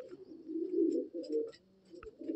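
Madrasi pigeons coo softly in an old loft, a continuous low throaty warble that swells and dips, with faint scattered clicks and a short thump near the end.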